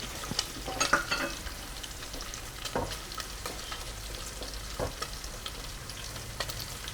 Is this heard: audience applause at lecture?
no